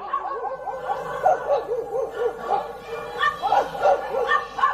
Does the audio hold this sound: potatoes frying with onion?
no